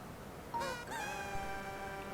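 A cat meowing twice, a short mew followed by a longer drawn-out meow, moderately close over a faint background hum.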